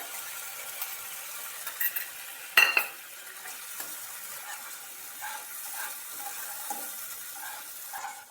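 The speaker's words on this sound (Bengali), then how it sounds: "এরপর আমি দিয়ে দিচ্ছি মৌরি, আদা, কাঁচা লঙ্কার যে পেস্ট আমি তৈরি করে রেখেছিলাম সেটা।" Fennel, ginger and green chilli paste hits hot oil in a pan for a fish curry, giving a steady close sizzle with a sharp clatter of a spatula or spoon at one point and light stirring scrapes throughout.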